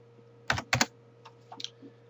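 Short burst of computer keyboard typing while a radius value is entered in SketchUp: two quick paired key clicks, then a few lighter, scattered taps, close and isolated.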